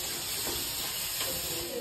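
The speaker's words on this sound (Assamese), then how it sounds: "এইফালে এতিয়া হাঁহ মাংস এতিয়া এইখিনি ভাজি আছোঁ" Pieces of duck meat fry in a hot pan with onions and spices, giving a steady close sizzling hiss with a few brief louder spits.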